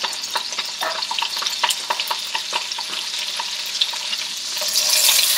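Butter and shrimp fry in a pan, a steady close sizzle dotted with small crackles and pops that grows a little louder and hissier near the end.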